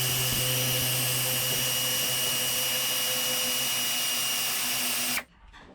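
A power tool loosens a spring compressor on a Citroën Xsara VTS front strut, a loud steady whirring drone for about five seconds that cuts off abruptly, leaving faint room noise.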